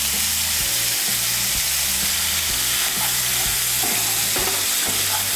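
Salt and turmeric stirred into a hot pan of sizzling chopped ginger for doi chola: a loud, constant frying hiss with rhythmic scraping strokes from the spoon, close up and with no voices.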